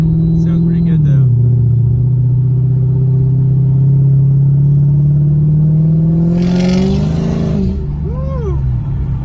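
A Mercedes W211 E55 AMG engine runs loud and close, holding a deep steady drone, then a quick rev swells and falls away near the end, with faint background sound on top.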